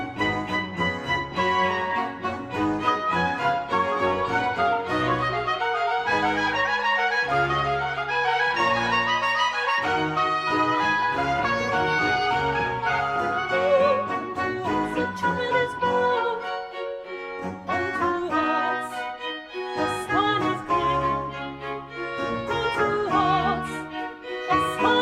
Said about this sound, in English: Handel's Messiah. It's For Unto Us a Child is Born,